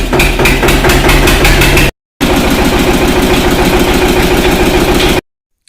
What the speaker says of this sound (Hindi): फाइनली जो हमारा आइसर ट्रैक्टर है वो स्टार्ट हो गया